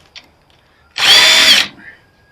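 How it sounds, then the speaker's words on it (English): A power tool whines in one loud burst of just over half a second, driving off bolts that hold the transformers in a scrapped welder, with faint clicks before and after. "Now we'll just unbolt the transformers."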